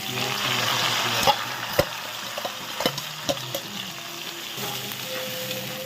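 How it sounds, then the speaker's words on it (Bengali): Onion and tomato sautéing in a pan after a ginger-garlic tempering, a steady close sizzle broken by a few sharp clicks and scrapes of a stirring spoon, no talk. "তারপর পেঁয়াজ কষি যাচ্ছে, পেঁয়াজ টমেটো কষি যাচ্ছে"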